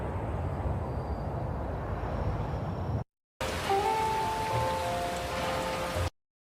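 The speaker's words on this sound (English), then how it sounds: "So we're hearing rain." Rain falls steadily in a video game, an even hiss that cuts out briefly partway through, returns, then stops abruptly into silence.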